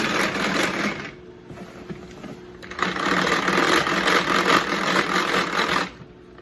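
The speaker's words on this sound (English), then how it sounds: "I'm going to just beat the eggs lightly" Eggs are beaten with a spinning crank beater inside a Tupperware container. The whirring rattle runs in two loud stretches separated by a short, quieter pause.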